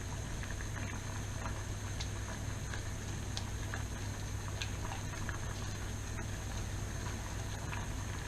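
Oat milk trickles into a hot pan for a vegan lasagne sauce, a steady soft liquid pour and gentle bubbling that hold at an even level throughout.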